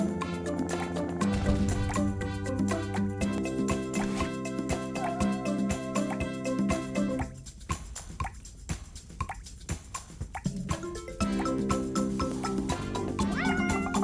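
Cat meowing in the Merry Bear video game, a few short mews heard over steady background music and game sounds, with no talking.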